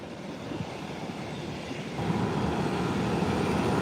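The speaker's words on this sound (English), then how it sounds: "Southwest is taxiing." A Southwest Airlines airplane taxiing, its engines a steady broad rumble and whine that grows louder midway, heard from a distance with no voices.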